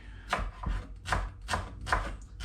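A knife chops food on a cutting board while guacamole is being made, four or five firm, evenly spaced thuds sounding close and clear with no talking.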